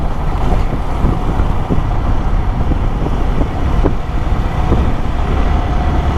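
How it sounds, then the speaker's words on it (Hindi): A Yamaha R15 V3 motorcycle accelerates on the road after servicing with a performance oil pack; a continuous engine drone is mixed with road and wind rush, with small pulses marking gear or throttle changes. No voices are heard. "जब मैं बाइक को एक्सेलरेट कर रहा हूँ"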